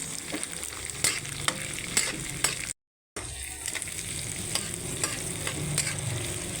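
Garlic and onion sauté in a pan with cubed tofu, a steady close sizzle with a few stirring scrapes and clicks, briefly cut by a gap of silence midway.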